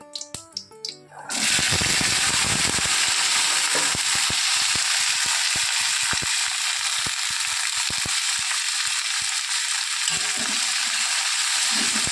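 Vegetables, including cauliflower, frying in hot oil with dried red chillies and bay leaves in a pan: after a brief opening, a loud, steady sizzle fills the rest of the clip, with frequent clicks and scrapes of stirring and no talk.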